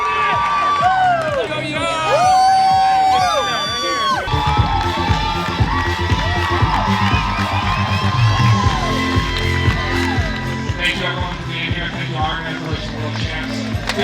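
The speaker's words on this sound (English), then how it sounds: "Fans were also cheering on their favorite pro athletes, including second place winner Sam Long." Crowd of fans cheering, whooping and yelling for pro triathletes at the IRONMAN 70.3 World Championship in St. George, a loud, continuous roar with shrill shouts and whistles rising and falling, voices mixed in throughout.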